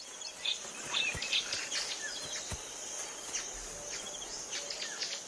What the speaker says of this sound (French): Partout où elle passe, les oiseaux signalent sa présence.